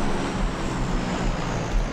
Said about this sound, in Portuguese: Que barulho é esse? É avião passando.